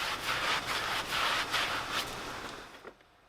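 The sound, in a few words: scrubbing tyres with a soft bristled brush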